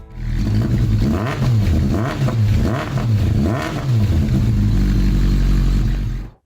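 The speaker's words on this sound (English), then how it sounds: "Exhaust sound of Suzuki GSX 600F Katana." A Suzuki GSX 600F Katana motorcycle engine revs repeatedly, its exhaust rising and falling in pitch in a steady loud cycle, close by with no talk.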